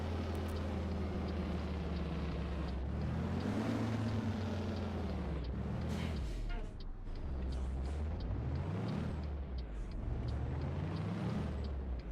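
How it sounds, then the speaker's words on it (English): A Detroit truck engine in American Truck Simulator roars steadily, its pitch rising and falling through gear changes, loud and sustained, with brief hissing near the middle and a person talking over it. "Detroit engine screaming here."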